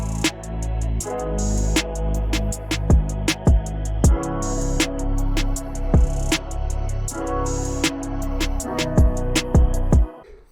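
A chill hip-hop beat with a booming bass kick, snare hits, reverb-heavy hi-hats ticking in a busy steady pattern and a sustained bassline, loud and continuous with no voices.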